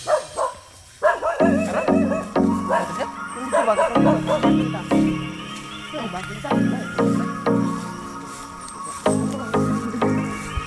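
Puppies bark on a farm in repeated short yaps and yips throughout, fairly close and loud, with people talking over and between them.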